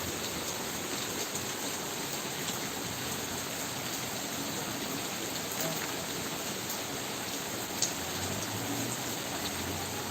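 Steady rain pours down in Buttar village in Punjab, a dense, even hiss of drops on surfaces filling the whole stretch without pause, loud and unbroken.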